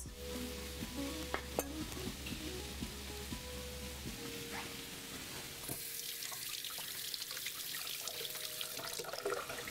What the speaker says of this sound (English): We can hear those sizzles, guys.